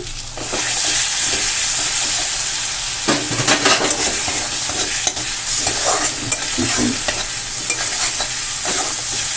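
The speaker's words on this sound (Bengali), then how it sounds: "এই যে কুচনো টমেটো দিয়ে দিচ্ছি" Chopped tomatoes hit a pan of frying ginger-garlic paste for matar paneer, a steady sizzle with stirring scrapes and spoon clinks that runs close and continuous.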